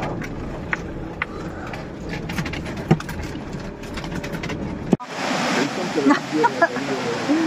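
Rainwater pours heavily and continuously off a roof, a steady rushing splash, with a voice speaking over it in the second half.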